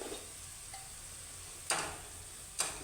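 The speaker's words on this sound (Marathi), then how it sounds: "आता हे आलं लसूण चांगलं मी 1-2 मिनटं परतून घेते" Ginger and garlic sautéing in a pan for instant masala pav bhaji, a faint steady sizzle broken by two sharp scraping clicks of a spoon against the pan.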